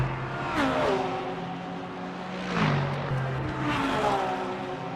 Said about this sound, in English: Still more hypercars coming through though.